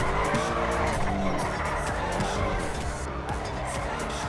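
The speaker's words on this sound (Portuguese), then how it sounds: "Tá aí mais um vídeo de drift pra vocês." Tires squeal continuously as a car drifts in GTA 5, with engine roar and skidding filling the whole stretch, loud and close, while a voice talks over it.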